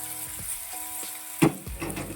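Chopped onion sautés in hot oil over a low flame, giving a soft, steady background sizzle punctuated by a few faint stirring scrapes and one brief louder clatter near the middle.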